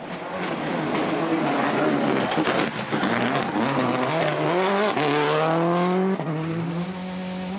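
A Subaru Impreza rally car tears along an asphalt special stage, its engine snarling loudly through rising and falling revs with gear changes and a brief tire squeal, while a commentator talks over it.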